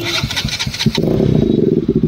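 A KTM RC 200 motorcycle with a loud aftermarket exhaust cranks over and fires up, then idles with a rough, throbbing burble close to the microphone, with no talk.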